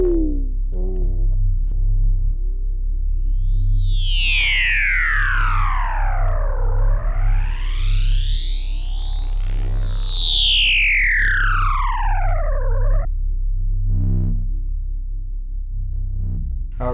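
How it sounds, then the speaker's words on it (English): A distorted electronic techno synth tone sweeps up and down in pitch over a deep sustained bass, gritty and buzzing, loud and continuous. "Let's start adding in proper distortion."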